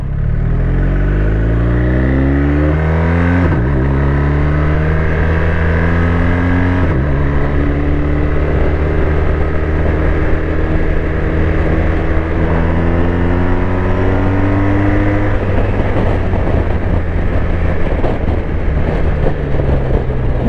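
A 2021 BMW R1250 RT motorcycle pulls hard under load, its engine note climbing steadily through successive gears with audible shift breaks and loud, close wind and road roar throughout.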